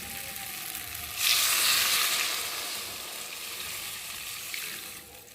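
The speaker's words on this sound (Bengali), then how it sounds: "পরিমাণ মতো জল দিয়ে দিই" Water is poured into hot fried masala for a live-fish curry with plantain, bursting into a loud hissing sizzle that swells quickly, then settles into a softer steady bubbling sizzle close by, with no voices.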